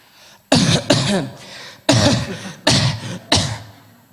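A voice imitates coughing, giving several sharp, throaty coughs in quick bursts with short pauses between them, close and fairly loud.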